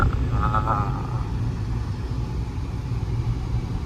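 A car engine humming steadily while driving along a village road, a low continuous rumble heard from inside the vehicle, fairly loud and unbroken, no talking.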